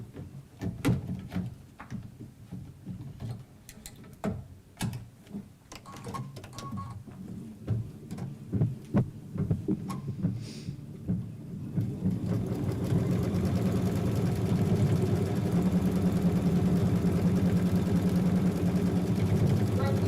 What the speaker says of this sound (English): We're going to go ahead and place this into the machine, and we're going to run our next machine step, which will be our tacking stitch